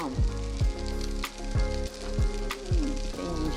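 Feta cheese sizzling with eggs frying in a pan: a steady close hiss of hot oil broken by a few sharp pops and crackles.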